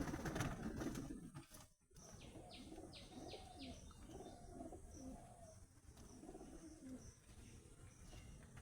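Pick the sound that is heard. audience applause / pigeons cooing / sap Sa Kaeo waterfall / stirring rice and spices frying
pigeons cooing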